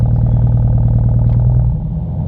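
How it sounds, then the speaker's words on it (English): A Dodge Demon idles on its trans brake with a loud, close engine grumble, a steady lumpy low throb that eases slightly near the end; no one speaks. "the trans brake, you can hear the grumble"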